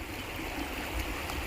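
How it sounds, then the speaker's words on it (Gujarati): River water flows steadily in the rain, a close, continuous wash and trickle with no voices, brief and moderately quiet. "આ નદી છે, પાણી છે સરસ મજાનું."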